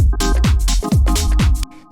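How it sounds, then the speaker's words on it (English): A minimal house percussion loop with shakers layered in pounds at full level, its kick thumping in a steady four-on-the-floor pulse with bright, hissy shaker hits and a tonal layer running over it until a brief tail at the end. "So you can hear how much energy we get from adding these shakers in."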